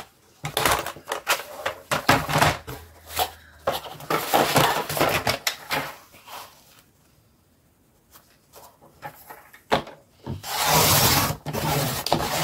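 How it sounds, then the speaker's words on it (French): Scissors or a blade cutting through cardboard pieces for a book-style advent calendar, a run of rough rasping and scraping strokes with short pauses between cuts, close and fairly loud. "Donc, pour la cartonnette, il faut découper 2 morceaux de dimension 30 par 23 cm."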